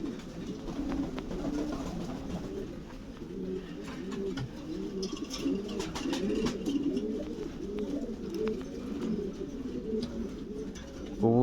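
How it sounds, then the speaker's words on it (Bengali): Pigeons coo steadily and overlap throughout at a large pigeon farm in Faridpur town, a dense, continuous chorus of throaty calls at close range with some faint background noise. "আজ ফরিদপুর শহরের একটা কবুতরের ফার্মেরই দেখাবো"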